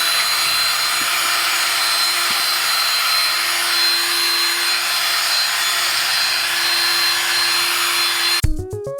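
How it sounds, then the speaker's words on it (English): A DeWalt power drill fitted with a firm drill brush scrubs degreaser into a tire, giving a steady close whir and brushing rub that cuts off abruptly at the end. "I'm literally just gonna take my really firm drill brush attached to my DeWalt power drill here and work"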